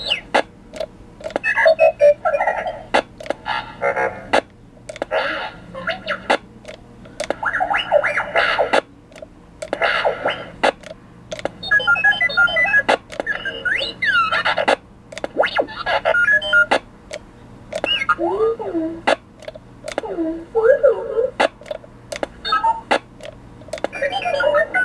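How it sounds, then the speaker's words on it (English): Browning squeal radio tones from an X-Bones toy box simulator, a series of chirps, warbles and beeps in repeated bursts with brief gaps, close and fairly loud with no talking. "Oops, now we got to listen to the Browning squeal."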